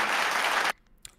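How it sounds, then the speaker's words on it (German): Burst of recorded applause played as a sound effect, a dense clapping wash lasting under a second that cuts off abruptly, followed by near silence and a faint click. "Darf ich einen Applaus abspielen für den?"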